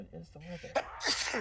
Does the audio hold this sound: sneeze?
yes